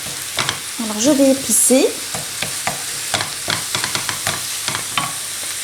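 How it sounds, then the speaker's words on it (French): Diced chicken and vegetables sauté in a pan over medium heat, with a steady sizzle broken by repeated scraping stirs. A voice speaks briefly over the cooking near the start. "Alors que je fais revenir sur un feu moyen."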